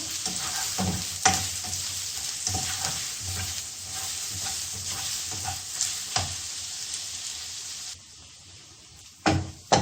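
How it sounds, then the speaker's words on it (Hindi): Garlic and ginger fry in hot oil as a tempering for saag, giving a steady close sizzle broken by stirring scrapes and taps. The sizzle drops away near the end, then a couple of sharp knocks follow. "लहसुन अदरक फ्राई हो गया।"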